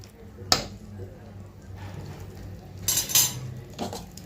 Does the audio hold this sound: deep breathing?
no